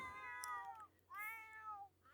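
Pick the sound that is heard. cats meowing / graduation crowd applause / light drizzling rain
cats meowing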